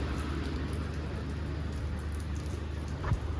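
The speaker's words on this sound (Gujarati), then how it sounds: "ધીમો ધીમો વરસાદ આવે છે." Light rain falling outdoors at night, a soft, even patter with a low steady hum beneath and one small knock near the end, faint and without speech.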